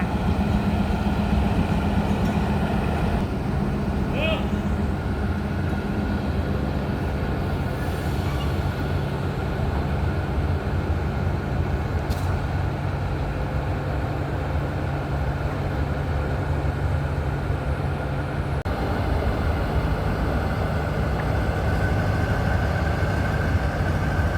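Alstom diesel locomotive with a Caterpillar engine runs steadily at a Bangkok rail yard, a continuous loud engine drone with a low rumble throughout and no talking.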